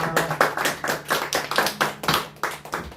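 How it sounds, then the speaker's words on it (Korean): Church congregation clapping in praise, a run of sharp, fairly close claps in loose irregular rhythm for about three seconds with no voices over it. "주님께 영광의 박수 올려드립니다"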